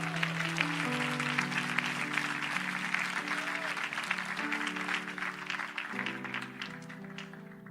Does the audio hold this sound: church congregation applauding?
yes